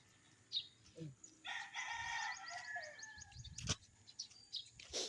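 A rooster crows once in a long, drawn-out call, with smaller bird chirps and faint background noise around it.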